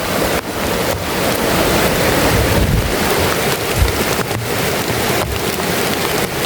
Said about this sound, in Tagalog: isa pa Malaking sapa ito oh.